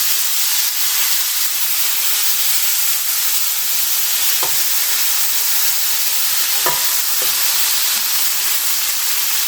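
Homemade cheeseburger patties fry in a pan inside an RV travel trailer kitchen, giving off a steady, close, loud sizzling hiss broken by a few brief knocks and scrapes as they are flipped and pressed down; no one speaks.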